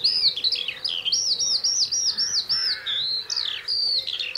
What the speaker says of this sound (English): Skylarks. The epitome of spring, if you like.